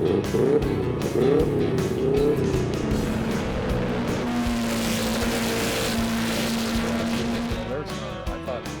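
Race cars hot lapping at High Plains Raceway, engines revving and rising in pitch through gear changes, then a sustained drone as a car passes, loud and nearby with speech mixed in.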